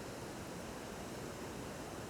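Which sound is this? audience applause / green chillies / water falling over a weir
water falling over a weir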